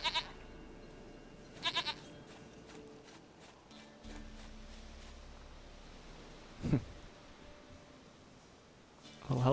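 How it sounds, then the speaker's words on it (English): Goat from The Witcher 3 video game bleats a few short times, with soft game ambience and scattered faint sounds between the calls. "Goat of mine, dearest,"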